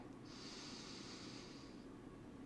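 One long, slow breath drawn in and let out through the nose during a postnatal yoga stretch, soft and close, with a faint airy hiss over a quiet room.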